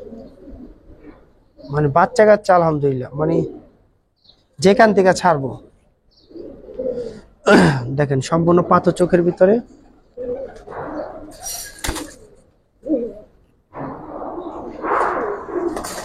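Silver Giribaz pigeons coo softly in short bursts at a pigeon sale, heard between and beneath the frequent talk of nearby men.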